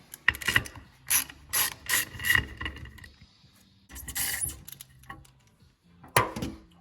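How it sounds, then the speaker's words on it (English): Small T20 Torx screws being unscrewed from the circuit board inside a 6.0 Powerstroke diesel FICM shell, a series of close, quiet ratcheting clicks and scraping turns in short bursts with pauses between them. "You've got 7 screws that hold that board down to this Ficm shell. So those are also T20, and we'll remove those now."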